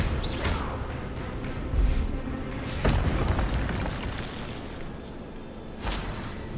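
Spell-casting combat in Hogwarts Legacy, with several booming explosive bursts and whooshes rising out of a dense, noisy game mix over about six seconds.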